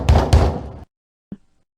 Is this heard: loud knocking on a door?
yes